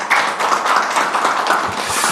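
Sustained applause from an audience at a Korean policy forum on THAAD deployment and KORUS FTA renegotiation, steady dense clapping throughout at moderate loudness with no talking.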